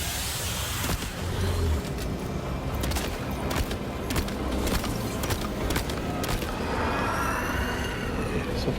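Gunshots in the PS5 game Death Stranding 2 ring out as a run of sharp, close cracks spread across the stretch, over a dense, steady game soundscape.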